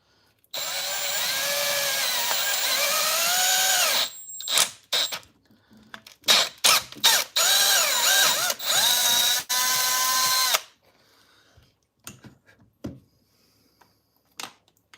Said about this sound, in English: I've already got a drill bit ready to go